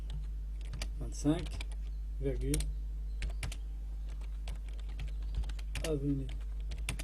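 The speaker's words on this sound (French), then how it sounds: "je tape les autres informations" Keystrokes on a computer keyboard entering business card details, a steady run of crisp clicks that comes and goes under a voice speaking intermittently.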